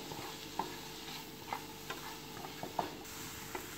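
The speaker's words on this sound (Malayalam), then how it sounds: "ഇനി ഇതെല്ലാം ചേർത്ത് നമുക്ക് നന്നായിട്ടൊന്ന് ഇളക്കി യോജിപ്പിക്കാം" Egg bhurji with spices is stirred and mixed in a pan, giving quiet, regular scraping taps against a faint continuous sizzle.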